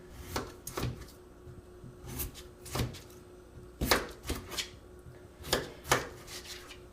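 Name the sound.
chopping potatoes for French fries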